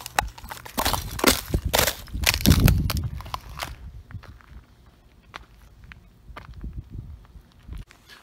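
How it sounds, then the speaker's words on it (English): Ice being broken out of puddles, a cluster of close, loud crunching and cracking stomps early on, followed by quieter scattered crunches and footsteps. "Don't you just love breaking ice out of the puddles?"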